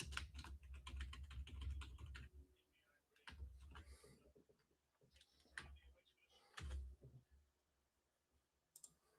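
Rapid clicking of typing on a computer keyboard during a live World Cup watchalong stream, with loud bursts of talk and crowd-like noise at times over the keystrokes.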